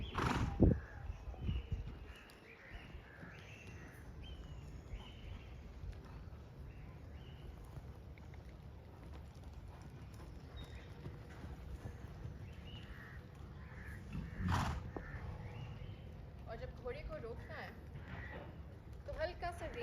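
A horse moves during a sitting-trot riding lesson, with soft hoof clip-clops, snorts and a whinny under a person's steady instructional speech, along with occasional outdoor bird calls.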